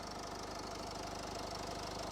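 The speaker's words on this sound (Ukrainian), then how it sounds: "зараз заведу двигун" A Renault Koleos 2.0 diesel engine starts and idles close by with a steady, even knocking rumble, running alone throughout.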